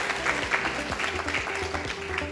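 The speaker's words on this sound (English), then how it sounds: "Big round of applause." Applause from an audience at a live university ceremony, steady clapping filling the hall as a token of appreciation is presented, with a faint voice beneath.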